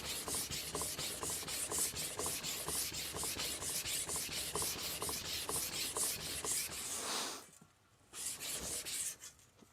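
A katana blade sliding in steady back-and-forth rasping strokes across a King Deluxe L400 whetstone set on a small tub, close and continuous with a brief pause near the end before the strokes resume.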